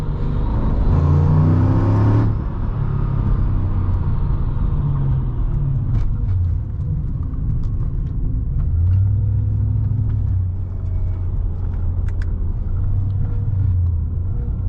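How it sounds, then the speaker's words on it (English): A loud 2006 Mercedes-Benz E55 AMG engine rumbles steadily at close range, with a brief rise in revs early on and a deep, droning header vibration throughout, the car lacking solid motor mounts. "the reason that car makes a little bit of noise there is because it doesn't have solid motor mounts"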